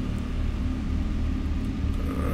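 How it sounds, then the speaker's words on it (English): In the video game Decimate Drive, a burning car gives off a loud, continuous low rumble as it chases, a steady engine roar with no talk over it. "the car's on fire coming after you"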